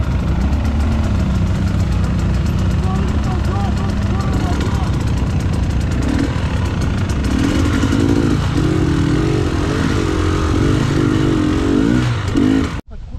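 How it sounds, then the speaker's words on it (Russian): An enduro motorcycle engine runs steadily throughout, idling with rough rumbling and occasional revs, loud and close, with people talking faintly underneath. "Заведем мотоцикл другой"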